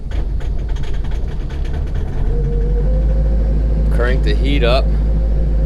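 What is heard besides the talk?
Ford F-550 Powerstroke truck engine idling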